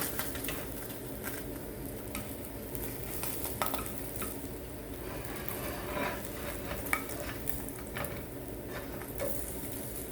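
Slices of Spam fry in a pan over a gas flame, giving a constant close sizzle broken by scattered scrapes and clinks of a utensil against the pan, with no speech.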